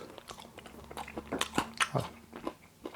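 Homemade orange chicken with a crunchy coating being bitten close to the mic, a run of sharp crisp crunches and chewing bursts, loud and alone.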